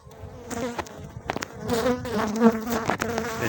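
Swarm of honeybees buzzing in the air around a hive during colony merging, a steady droning hum that swells and wavers, close and fairly loud with no voices.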